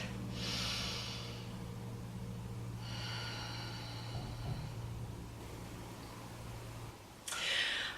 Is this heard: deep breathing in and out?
yes